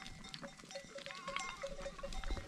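Goats bleat in short, wavering calls, several animals at once, over a rustling outdoor background with no talking.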